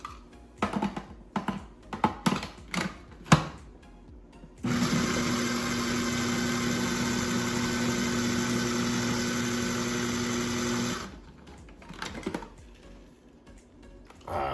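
An electric food processor whirs loudly and steadily for about six seconds as it chops an onion, preceded and followed by clattering as the lid and parts are handled, all in a home kitchen while burgers are being prepared.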